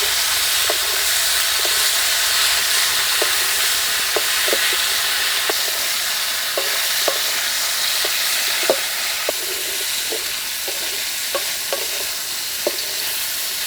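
Bitter gourd pieces, salted and mixed with turmeric, fry in about three spoons of oil in a kadai. A steady, close sizzle hisses throughout, with faint scattered pops and stirring clicks and no talking.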